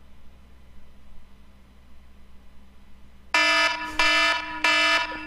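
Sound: loud alarm sound used as an alarm clock

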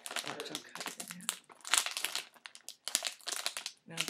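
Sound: cutting plush toy packaging with scissors

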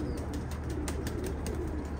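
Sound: birds calling

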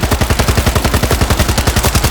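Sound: gunfire in World War Z video game

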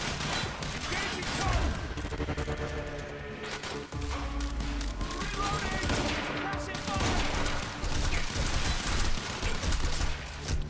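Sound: machine gun fire in a video game

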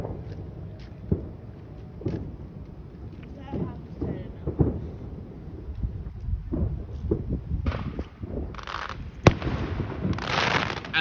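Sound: fireworks exploding and crackling

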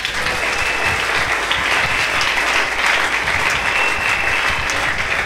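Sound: congregation applauding Jesus in church

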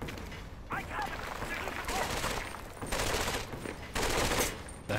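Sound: gunfire in Medal of Honor: Vanguard video game

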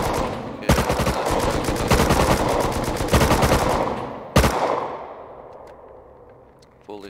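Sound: gunfire shots in the video game Rust

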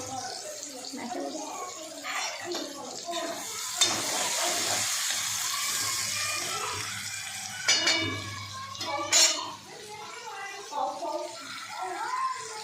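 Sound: tomatoes, salt and spices frying in a pan

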